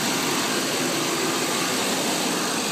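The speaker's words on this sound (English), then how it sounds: "you can see the engine's running pretty decent now" A car engine runs steadily after a no-start repair, a continuous loud, even whirring roar with no pauses, heard close up with no talking.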